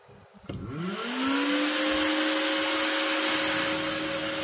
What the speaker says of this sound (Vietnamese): Tiếng quạt máy chạy rất mạnh nghe các bạn.